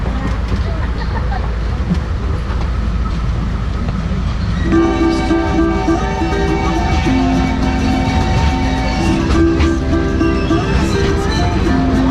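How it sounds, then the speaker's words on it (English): A sightseeing train rumbles along steadily through the Dole Plantation in Hawaii, and about halfway through a sustained horn-like tone joins in and keeps sounding over the rolling noise. "Express train tour"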